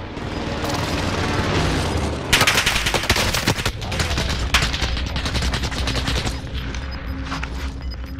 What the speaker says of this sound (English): Getting shot from control.